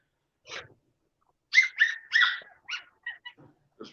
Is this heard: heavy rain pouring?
no